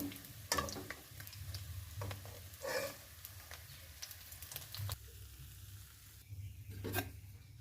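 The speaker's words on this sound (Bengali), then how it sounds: "মাছগুলো আমরা ভাজা হয়ে গেছে তুলে নেব" Fried fish is lifted out of hot oil; a low, steady frying sizzle runs throughout, broken by a few scraping and clinking knocks from the utensil.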